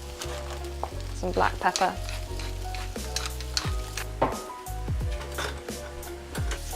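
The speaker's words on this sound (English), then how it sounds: "I'm gonna add the potato and the sweet potato and just stir all that in." Chorizo, potato and sweet potato sizzle loudly in a frying pan while being stirred, with repeated scraping and squishing strokes over a constant fry; a voice speaks briefly.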